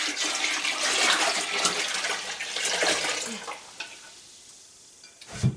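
Raw cow's milk is poured into a big pot, a loud, steady splashing gush that gradually fades and then ends with a couple of faint knocks.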